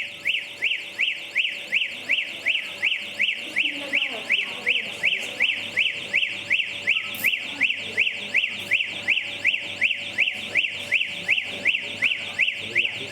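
A wireless level monitoring system's alarm sounds steadily, a loud repeating electronic beep-whoop pulsing about twice per second throughout, with faint background voices underneath.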